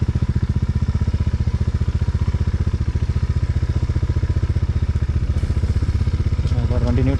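Motorcycle engine running with a rapid, steady thumping pulse on a muddy offroad trail, close and loud, with speech heard over it near the end as the bike slips into neutral.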